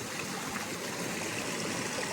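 Creek water rushes and trickles steadily and evenly, a continuous stream sound beside someone scooping from it while sluicing for gold.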